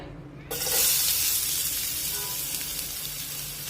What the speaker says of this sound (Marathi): आता तेल हलकसं गरम झालं की त्यामध्ये एक छोटा कांदा मी इथे बारीक कट करून घेतलेला आहे